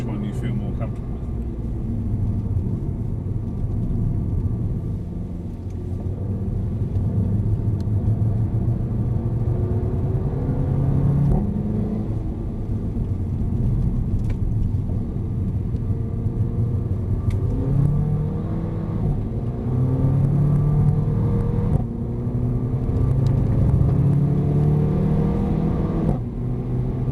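A Mercedes-AMG A45 drives and corners on a track, its engine a steady, low rumble with gentle surges throughout, heard from inside under occasional conversation.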